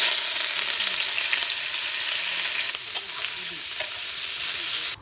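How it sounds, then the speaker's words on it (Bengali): Neem leaves fry in hot oil after green chillies, a continuous close, bright sizzle with occasional stirring scrapes and crackles, no voices. "এই যে তেলের মধ্যে দিয়ে দেবো নিম পাতাগুলো।"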